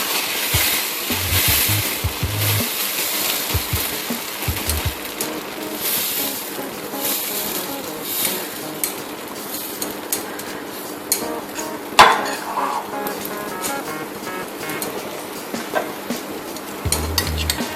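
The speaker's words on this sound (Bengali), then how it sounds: "এবার আমি আর একটা ধোসার জন্য দিয়ে দিলাম ব্যাটার।" Dosa batter sizzles and fries on a hot pan, a continuous bright hiss with occasional scraping and clinks of a spoon or utensil against the metal.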